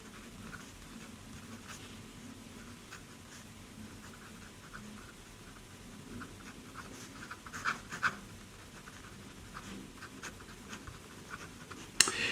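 Fountain pen with a 1.5 nib writing on vintage Hanji Hanaduri paper, a faint steady scratching of the nib across the sheet with occasional small taps, no talking.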